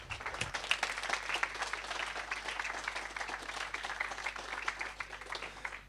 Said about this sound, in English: I really think the speakers do deserve a round of applause